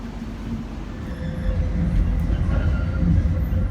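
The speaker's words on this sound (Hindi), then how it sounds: "मैं ट्राम के अंदर आ गया हूँ" Steady, loud rolling rumble of a tram running along its rails, heard from inside the car on a hot day, with a continuous low drone and no talk.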